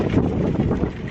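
Gusty wind rushes across the microphone outdoors on a chilly evening, a steady low roar with slight swells, no voices.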